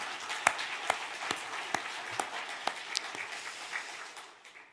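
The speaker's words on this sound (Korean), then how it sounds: "우리 하나님께 감사의 박수 한번 올려드리겠습니다." A church congregation applauds during a Sunday worship service, a steady wash of many hands clapping at a moderate distance with sharper individual claps standing out, fading slightly toward the end.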